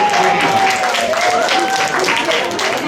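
Audience applause and cheering for a performer at a Mother's Day senior performance event at a neighborhood center, a dense continuous wash of clapping with voices calling out over it.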